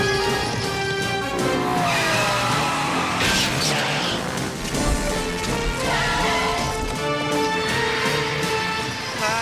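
A cartoon car races along a street with revving engine, squealing tires and skidding throughout, loud and busy with music-like tonal layers mixed in.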